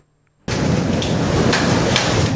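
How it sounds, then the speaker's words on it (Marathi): After a brief near-silence, a sudden roar of heavy rain bursts in and holds steady, loud and dense, with deep rumbling thunder beneath. "वादळी वाऱ्यांसह मुसळधार पाऊस"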